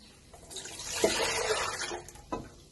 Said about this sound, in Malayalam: അപ്പം നമുക്ക് വെള്ളം പാർന്ന് കൊടുക്കാം